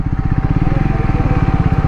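A motorcycle engine putters in a fast, even rhythm of low pulses, loud and close while the bike is ridden through a city.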